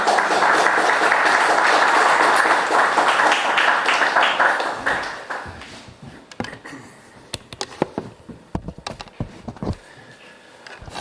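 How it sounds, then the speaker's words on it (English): Audience applause welcoming a lecture speaker at a talk on historic monuments in Cyprus, a dense steady clapping that fades out around halfway, leaving scattered individual claps and faint murmurs. "please join me in a very warm round of applause for our speaker, Mr. Chotzakoglou"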